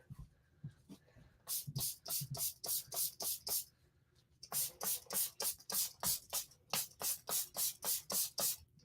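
Short bursts of an aerosol spray can hiss in quick rhythmic succession, close and fairly quiet, with a brief pause midway, spraying the edges and top of a craft piece.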